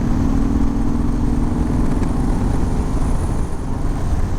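A 2019 Harley-Davidson Sport Glide with a 107 engine and standard exhaust runs steadily at a low, throaty drone while riding, with no voices.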